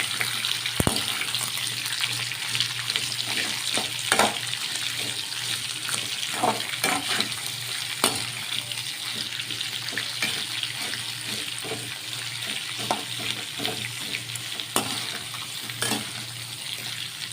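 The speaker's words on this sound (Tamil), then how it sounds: "வெங்காயம் நல்லா வதக்கி எடுத்துக்கணுங்க." Onions sautéing in a pan for Tamil-style onion chutney, with a continuous hiss of frying and repeated stirring scrapes and taps over a steady low hum, close and fairly loud, with no voices.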